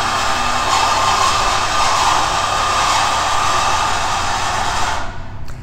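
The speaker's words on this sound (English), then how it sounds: "it's cutting steel. Sorry about the noise." Steel being cut by construction machinery beside a conference centre in Blackpool, a loud, harsh and steady grinding roar that holds for about five seconds and then cuts off abruptly, heard alone without talk.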